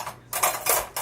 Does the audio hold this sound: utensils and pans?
yes